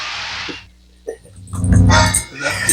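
A pet dog whimpers and whines in short breathy bursts, close by, with a muffled rustle and low rumble mixed in.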